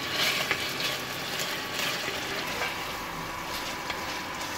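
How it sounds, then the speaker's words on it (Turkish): Meat sizzles and fries in a pan with a tablespoon of tomato paste for an onion and meat stew, making a continuous hiss scattered with small pops and crackles. "Salçayla birlikte etimi biraz daha kavurma işlemine devam ediyorum."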